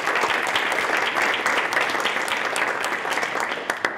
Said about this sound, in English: So I think we should all give a big round of applause